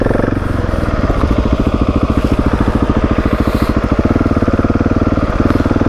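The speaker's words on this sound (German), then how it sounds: "Ich gebe jetzt mal ein bisschen Gas, dass die vielleicht ein bisschen abkühlt." An overheating motorcycle engine trailing whitish-blue smoke is given some throttle, a loud, close, steady pulsing thump that holds its rhythm with a slight shift partway through.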